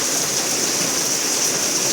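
Light rain falls in a steady, even hiss that fills the whole moment without pause, close and fairly loud with no voices.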